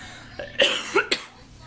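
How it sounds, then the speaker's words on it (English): A woman coughing in front of a camera indoors: a short run of three dry, harsh coughs in quick succession, close and fairly loud with quiet between. "Every time, y'all, I turn on the camera, I start coughing."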